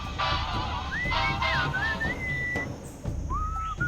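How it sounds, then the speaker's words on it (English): A bright, melodic whistled tune in the video game Sam & Max Beyond Time and Space glides up and down in short phrases over a steady musical backing with a beat. "What is that enchanting whistling sound?"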